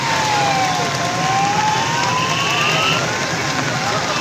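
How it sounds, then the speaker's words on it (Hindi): A wailing siren rises and falls at a distance over steady heavy rain and traffic noise in Rawalpindi, with a second siren tone, police vehicles, faintly joining midway. "सायरन की आपको आवाज़ें आ रही हैं।"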